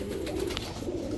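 A Danish highflyer pigeon gives a soft, low coo, close and steady over about a second against a faint background hum.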